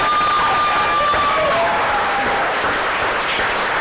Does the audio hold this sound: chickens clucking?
no